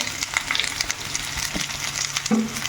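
Ridge gourd peel and onion fry in a pan, giving a steady close hiss and sizzle as they are stirred, with light scraping knocks from the utensil.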